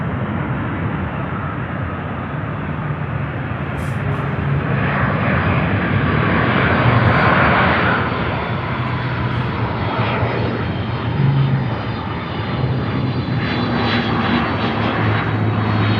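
An Airbus airliner arrives at Louisville International Airport, its engines a loud, continuous roar that swells toward the middle and holds steady throughout, heard close and alone.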